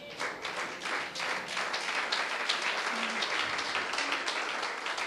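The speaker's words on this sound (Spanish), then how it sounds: "¿Cuántos aplauden al Señor?" Congregation in a church sermon applauding, a dense continuous wash of many hands clapping at steady volume throughout, no speech over it.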